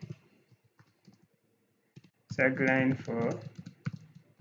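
Fingers type a short prompt on a computer keyboard, with a sparse patter of quiet clicks before a person speaks over the keys.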